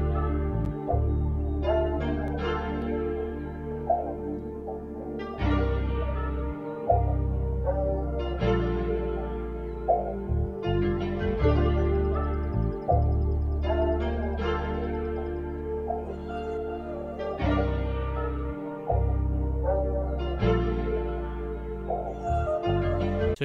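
A music sample built in FL Studio, a looping soulful instrumental with deep bass and layered chords, repeating in steady phrases at an even loudness with no voices.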